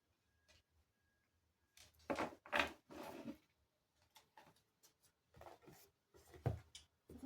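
Tarot cards being shuffled up close: a series of quick papery riffles and flicks, in bursts separated by short pauses.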